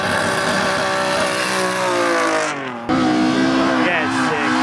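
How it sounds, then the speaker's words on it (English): An engine-swapped Datsun at a Queensland Spring Matsuri drifting event revs hard, its note climbing through a loud, rising whine, dipping briefly and then surging again, with other engine noise around. "This is the GDR engine swapped Datsun."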